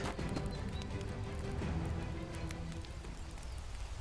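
Horses at a knight's camp in a medieval audio drama, hooves clopping and shuffling at moderate distance in a quiet steady bed, soft and continuous with no voices.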